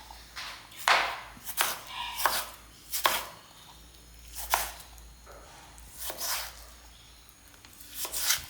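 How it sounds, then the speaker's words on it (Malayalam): A knife chops tomatoes and green chillies on a board for a mackerel fish curry, with sharp, close cuts landing in small irregular bursts separated by short pauses. "കറി വെക്കുന്നതിലേക്ക് പിന്നെ നമുക്ക് തക്കാളിയും പച്ചമുളകും ഒന്ന് അരിഞ്ഞിടണം"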